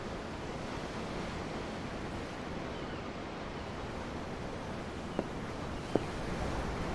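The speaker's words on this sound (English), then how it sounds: "I'm looking at the ocean. The ocean? Yeah. The waves." Ocean waves in Tales of Arise, heard as a steady, soft wash of surf with wind noise, plus two faint short clicks near the end and no voices.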